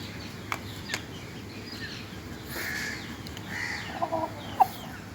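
A Tiger breed rooster clucks in short, scattered bursts over a steady background hiss, with a few sharper calls near the end.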